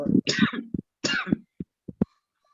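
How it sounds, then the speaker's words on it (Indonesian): Several coughs and a throat-clearing sound in a quiet room during an Arabic lesson, with a couple of harsh bursts early on followed by short, isolated coughs trailing off. "Kenapa itu batuk"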